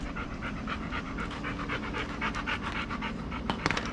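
A dog pants heavily and rapidly in quick, steady breaths, close by, with a few brief sharper sounds near the end.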